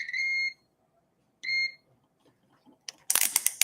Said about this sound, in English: It's just fun playing with the beeping.